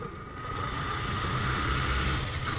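A Yamaha MT-15 motorcycle on an unopened bypass road, its engine droning steadily and swelling slightly louder as it approaches, fairly close, with no talk.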